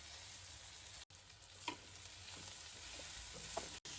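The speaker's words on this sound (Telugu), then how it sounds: "ఇప్పుడు ఇందులోకి మునగాకు కూడా వేసేసుకుంటున్నాను. మీడియం ఫ్లేమ్లో పెట్టుకొని మనం ఫ్రై చేసేసుకుందాం." Drumstick leaves fry with onions in a pan over a medium flame, giving a quiet, even sizzle with occasional stirring scrapes and two brief dropouts, no voices.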